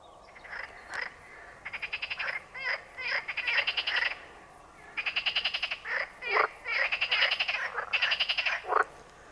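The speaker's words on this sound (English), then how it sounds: "the Island Lake is one of the quietest lakes you'll ever fish until them bloody frogs go" Frogs croak at an island lake in loud rapid rattling trains, bursts repeating in quick rhythmic pulses with short gaps, close and dominant with no talking.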